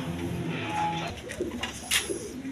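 A pair of red khaki pigeons in a pigeon-selling loft coo softly, low throaty calls rising now and then over a faint background hum, with a brief sharper bird sound near the end.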